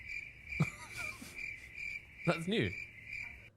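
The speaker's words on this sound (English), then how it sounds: "Crickets." Crickets chirping as a sound effect: a steady high trill runs through the whole moment while a person speaks briefly over it.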